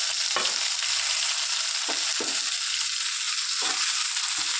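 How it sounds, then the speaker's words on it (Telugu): Chopped tomatoes frying with onions in a pan, a constant loud sizzle and hiss with a few scraping stir strokes at irregular intervals, close and uninterrupted by talk. "టమాటాలు బాగా మెత్తగా కుట్టేంత వరకు వీటిని ఫ్రై చేసుకోవాలి"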